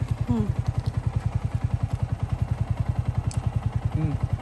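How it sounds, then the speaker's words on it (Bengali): A motorcycle being ridden, its engine thumping in a fast, steady pulse up close throughout, with brief voices and a faint whine rising over it. "আমার বোন মোটরসাইকেল চালাচ্ছে"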